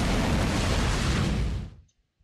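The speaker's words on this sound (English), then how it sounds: "Whee! Explosions! Everyone likes explosions." Loud roaring blast of an explosion in the video game Zone of the Enders: The 2nd Runner, a dense rumbling burst that holds for over a second and then cuts off sharply to near silence.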